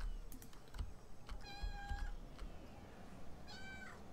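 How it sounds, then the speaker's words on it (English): A cat meows twice, clear harmonic cries a couple of seconds apart, over steady background hum and faint clicking. "So, that's Luna, if you can hear her meowing."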